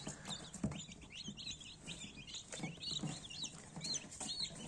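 Newly hatched Black Copper Marans chicks peep in a steady stream of thin, high chirps, quiet and close, with no voices.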